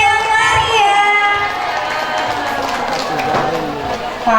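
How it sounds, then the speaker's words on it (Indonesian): A lively crowd of children and adults at a school Quran-memorization graduation and farewell event cheering and clapping continuously, loud and close, with shouts and voices mixed throughout. "Beri tepuk tangan yang meriah."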